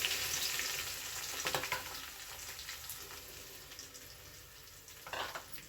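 Semolina (rava) roasting lightly in a pan alongside chana dal, with a soft continuous sizzle and intermittent scraping stirs, close and fairly quiet, no talking.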